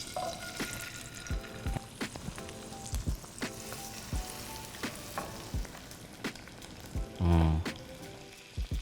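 Salmon fillet frying skin side down in a pan over medium-high heat, a steady close crackling sizzle with occasional louder pops and a brief hiss, no talk.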